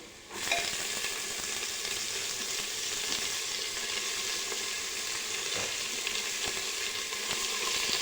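Green chillies and finely chopped tomato sauté in a pan with roasted peanuts for masale bhat, a steady loud sizzle of frying running unbroken throughout with faint stirring scrapes.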